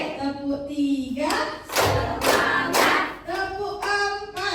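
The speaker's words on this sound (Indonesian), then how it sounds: "saya sebutkan angkanya langsung bertepuk ya" A workshop group claps hands together in a counted rhythm, several sharp bursts of applause-like claps landing between stretches of a voice speaking nearby.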